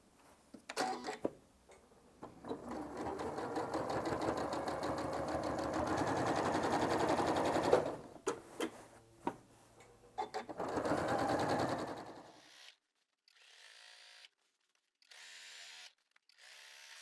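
A home sewing machine stitches straight quilting lines through a quilt in long, even runs of rapid mechanical chatter, pausing briefly between passes, then stopping to leave a few faint clicks and quiet handling sounds.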